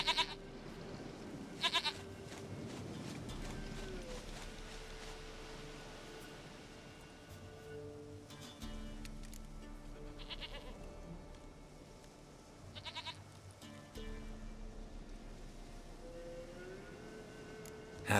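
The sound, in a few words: goat bleating in The Witcher 3 video game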